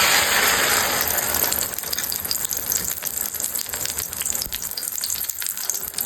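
Okra (ladyfinger) dropped into a little hot oil in a pan gives a steady, close crackling hiss, loudest in the first moment and then settling into a continuous sizzle with no voices.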